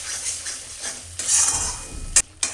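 Masala fried with cashew and poppy seed paste is stirred in a pan, producing a hissing fry and metallic clinks of a spoon against the vessel, with two sharp knocks near the end.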